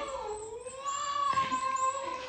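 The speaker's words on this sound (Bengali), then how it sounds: "মিউর কান্নাকাটি দেখে টাইগারও কান্নাকাটি শুরু করে দিয়েছে।" A pet cat cries with a long, drawn-out meow that wavers and rises, close and fairly clear, followed by a second shorter wail.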